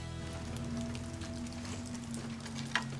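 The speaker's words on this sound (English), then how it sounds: "this constant nagging rain" Steady, constant rain falls outdoors on a soggy day in a backyard, a dense, even patter close by that runs alone without a break, with one brief sharper tap near the end.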